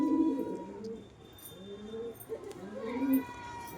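A wild pigeon coos near a pigeon loft in several low, rounded calls spaced through the stretch, fairly close, with faint background noise between the calls.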